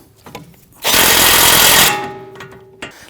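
A power tool tightening a tie rod nut on a Volvo XC60 in a loud rapid hammering burst of about a second, with softer clicks and handling noises before and after.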